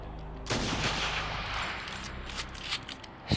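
Dense gunfire erupts in a sniper video game, a sudden loud burst of rapid shots that rings out and decays into scattered sharper cracks and a final loud report.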